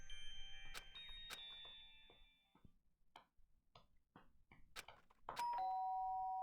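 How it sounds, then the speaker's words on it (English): Doorbell chime from the video game Danganronpa: a few bright chiming tones and short ticking clicks over a faint game background, ending with a sustained electronic tone. "Ding dong, but no bing bong. That means someone rang your doorbell."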